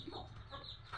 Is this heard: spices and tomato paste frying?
no